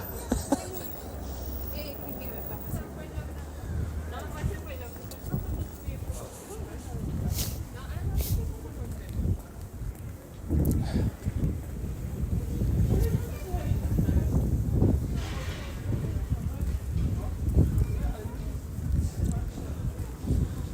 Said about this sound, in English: Windy and sunny in England.